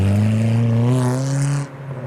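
A car pulls away from a car show under hard acceleration, its engine note climbing loudly up close and then dropping off abruptly as it moves off.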